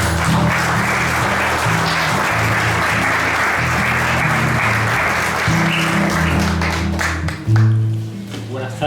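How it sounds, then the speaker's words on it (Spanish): Sustained audience applause at a tribute event in a cultural athenaeum hall, steady dense clapping with low musical or murmuring tones underneath, fading near the end as a brief thump sounds. "Un aplauso para él."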